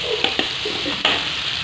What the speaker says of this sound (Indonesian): agak ditumis.